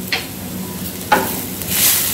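Dhaba-style paneer masala with green chillies frying in a pan, a continuous sizzle broken by two scraping stirs of a spoon, close and fairly loud, with no talking.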